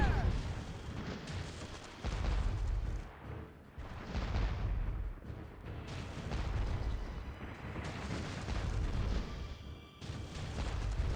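Fort cannons firing in Pirates: The Legend of Black Kat video game, a series of heavy booming blasts with rumbling tails, loud and repeated at irregular intervals.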